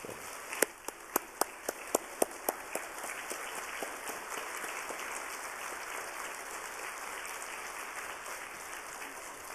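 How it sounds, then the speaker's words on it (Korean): Audience applause welcoming a speaker at a Wednesday church service, starting with a few sharp separate claps and then settling into a steady, fairly soft patter of many hands. "우리 뜨거운 박수로 환영하겠습니다"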